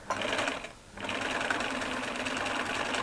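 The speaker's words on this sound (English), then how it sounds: "what I'm now going to do is just zigzag stitch in the seam allowance" A sewing machine zigzag stitching along the seam allowance of a cotton shirt, running as a fast, steady mechanical whir with a brief pause early on, close and loud with no talk.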